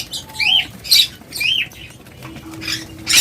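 Several brief flutters of caged birds' wings, with scattered high chirps between them, sound up close in a quiet, slightly hissy room.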